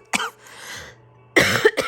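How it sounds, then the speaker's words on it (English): Two separate coughs from a person, each one short and close, with a quiet pause between them. "now I'm going to start coughing"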